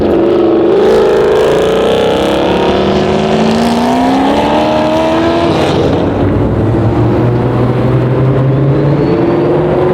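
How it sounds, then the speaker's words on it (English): Loud engines of American sports and muscle cars, including Corvettes, roar and rise in pitch as they accelerate and sweep past during a time attack at Willow Springs, several overlapping revs sustained throughout, close and powerful. "there's a time attack going on with American sports cars, American muscle cars"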